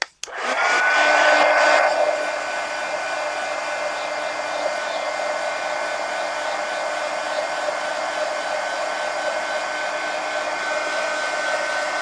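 A hair dryer blows onto a collage book page, switching on with a loud rush of air and then settling into a steady, close whirring hum that continues alone for the rest of the clip.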